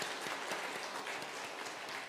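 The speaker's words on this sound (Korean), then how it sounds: "박수로 환영합니다." A church congregation applauding at a Sunday service, dense steady clapping at moderate volume that carries on without a break.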